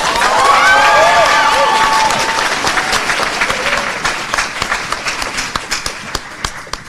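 Audience applause at a graduation ceremony, a dense burst of clapping with some cheering and whoops early, thinning into scattered individual claps toward the end.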